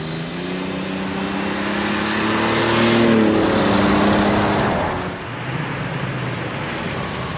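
A turbocharged 1987 Buick Grand National drives along, its engine note swelling as it accelerates and then easing off, heard steadily from close by with no talking.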